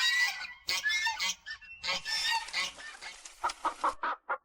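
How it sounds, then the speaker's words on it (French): A chicken and a goose cluck and honk close by in a rapid string of separate calls, loud bursts broken by short gaps, with no talk over them. "Apportez-moi un poulet, une oie et un canard."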